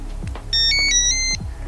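A New Direction K9 fishing bite alarm switching on with a short electronic melody of bright stepped beeps, close and clear, lasting under a second amid faint clicks.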